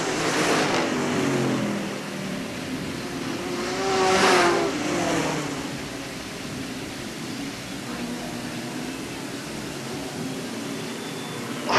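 Sportsman stock cars race around Hales Corners Speedway in 1989, a steady broadband engine roar with swells as cars pass nearby, fading and returning, a commentator's voice talking over the track noise.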